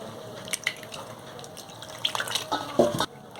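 Water trickles and splashes in small pours as it is added bit by bit to flour dough for kneading, soft close-up drips and spills in a few uneven bursts.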